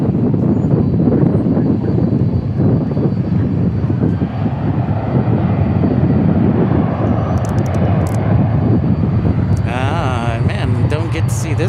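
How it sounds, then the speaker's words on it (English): A heavy Airbus A350 jet roars loudly and steadily as it takes off from runway 18 Left at Dallas Fort Worth airport, a broad engine rumble with a person talking excitedly over it. "do we get an A350 takeoff here from 18 left?"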